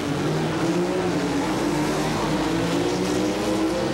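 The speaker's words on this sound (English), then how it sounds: "that's a Ford six-cylinder for Joe Williamson" Ford six-cylinder roadster launching at a 1970s sportsman drag race, a loud, sustained engine roar with harmonics climbing steadily through the whole stretch, no talk over it.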